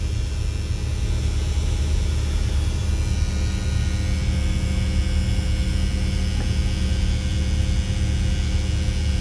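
An MC5 bus engine idles just after being started in a shop, a steady low rumble and hum holding even and continuous throughout.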